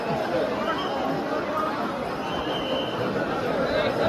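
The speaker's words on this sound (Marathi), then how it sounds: "जाम गर्दी" Dense crowd chatter fills the Pandharpur vegetable market, a constant close babble of many overlapping voices with no pauses.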